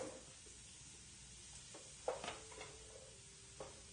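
Celery cooking with garlic in a pan over fairly low heat, a faint, steady sizzle broken by a few soft stirring scrapes and knocks, with no talking.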